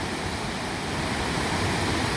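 A waterfall pouring continuously, a dense, steady roar of rushing water heard close and unbroken throughout.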